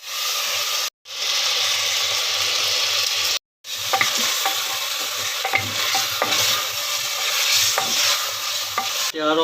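Whole spices and cumin seeds sizzle and fry steadily in hot oil in a pot over low flame, with stirring scrapes and brief pauses; the loud, continuous crackle fills the space without talk.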